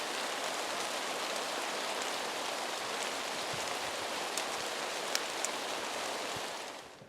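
Steady rain falls outdoors in a forest near a Douglas fir tree, a dense, even hiss of drops with occasional louder individual drips close by, continuing without voices.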